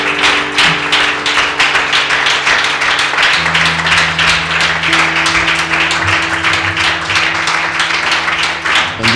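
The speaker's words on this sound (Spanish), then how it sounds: "Un fuerte aplauso al Señor Jesucristo" Steady, dense clapping from a church congregation applauding Jesus Christ during a service, continuous and fairly loud for the whole stretch, with a low sustained musical tone underneath.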